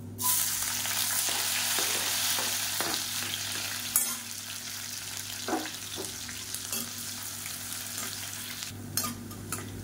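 Steady sizzling of finely chopped onions frying in hot oil with ginger-garlic paste, with occasional scraping and stirring clatters; no voices.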